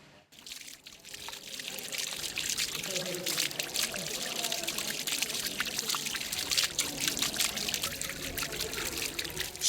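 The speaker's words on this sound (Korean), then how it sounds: "시원하게 뻗는 연못과 아름다운 물소리가 기분을 상쾌하게 한다." Water flows and trickles steadily into a long garden pond at the Alhambra in Granada, Spain, a close, continuous pouring splash that swells after a quiet start, with a murmur of voices in the background.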